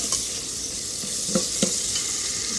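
Chicken sukka masala fries in a pan with a constant, fairly loud close sizzle, marked by two or three brief stirring knocks midway and no talking.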